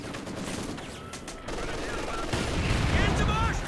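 MG42 machine gun fire in Company of Heroes 2 crackles in rapid bursts amid the battle noise, moderately loud and mixed with other game sounds.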